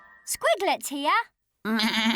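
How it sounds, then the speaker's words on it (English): A lamb bleats in short wavering cries, close and loud, with a child-like voice speaking briefly in between. "It's cute and cuddly and has a woolly coat. It's a lamb."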